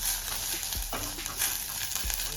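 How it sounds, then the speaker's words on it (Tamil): Curry leaves sautéing in hot oil for a Sri Lankan tapioca curry give a faint, steady hiss with a low hum underneath and a few soft bumps, heard alone without voices. "கருவேப்பிலை சேர்த்து வதக்கணும்."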